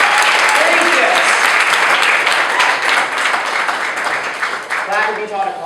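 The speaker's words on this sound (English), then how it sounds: "So let's clap if you volunteered for a shift this weekend." An audience applauding at a wildfire awards gathering, a full, steady wash of clapping from many hands that tapers slightly toward the end, with voices faintly audible beneath.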